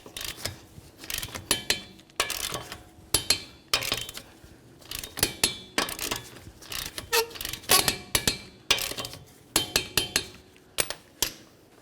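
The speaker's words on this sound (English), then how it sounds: "let's go ahead and torque them" A torque wrench tightens lug nuts on a Nissan Rogue wheel, with a run of sharp metallic clicks and clinks in irregular bursts, close and fairly quiet, with no talking.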